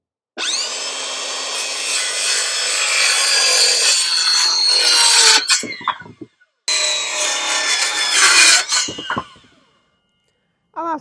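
Hand saw cutting through wood in a garden setting, a steady close rasping run of strokes for about five seconds, a brief pause, then another burst of sawing before it stops.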